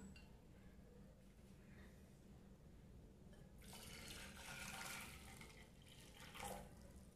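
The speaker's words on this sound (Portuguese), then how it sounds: "Coloquei água quente." Hot water is poured into a bowl at home for a facial steam, a soft, low trickle swelling into a louder splashing pour, then easing off, close by with no talking.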